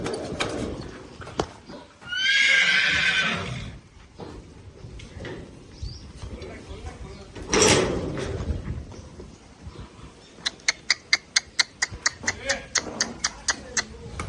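A mare whinnies in bursts over nearby voices, with a few rapid, sharp hoof clops near the end of an outdoor farmyard scene.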